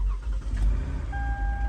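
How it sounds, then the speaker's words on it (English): A 2011 Toyota Highlander engine cranks and catches, a short low rumble that settles into a running idle, close and moderately loud. "Vehicle cranks up, runs"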